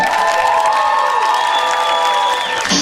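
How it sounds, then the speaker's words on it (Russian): Audience applause and cheering at a televised stage show, a loud, sustained crowd roar with tonal whoops rising over it throughout. "Майский строитель, под ваши аплодисменты."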